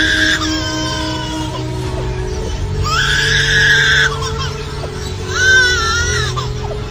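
A lyrebird mimics a baby crying, giving three loud, wailing cry-like bursts with pauses between them, close and clear over a faint steady background hum.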